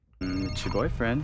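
A phone rings in a scene from the TV series The Vampire Diaries, its tone ringing steadily and loudly while a voice speaks over it.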